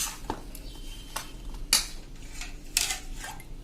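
Okra being mixed with gram flour and a little water in a bowl, with a few scattered spoon clinks and scrapes against the dish, fairly close and quiet, with no talking.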